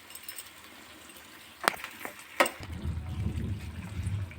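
Water poured into a pan of eggplant curry: a couple of sharp clinks, then a low bubbling, gurgling splash that carries on steadily and close up.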